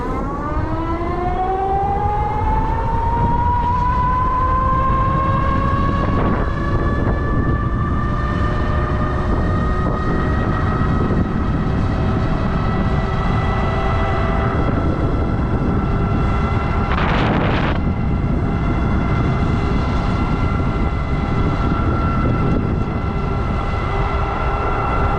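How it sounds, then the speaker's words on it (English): A Tuttio ICT electric bike climbs a steep hill at full throttle without pedaling, its motor whine rising steadily in pitch and then holding a loud, sustained tone over rushing wind noise. "I'm just gonna get full throttle, like without pedaling"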